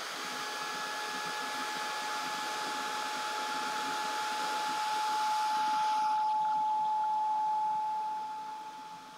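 A handheld heat dryer runs continuously while drying a watercolor pencil craft piece, a steady blowing whir with a thin tonal whine, swelling slightly before it cuts off near the end.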